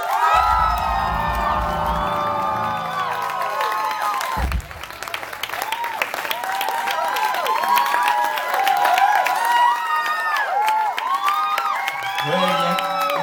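A crowd at the Kobuci club cheers and claps for a drummer during a concert, whoops and shouts rising over sustained applause, with voices calling out and a musical tone at the start.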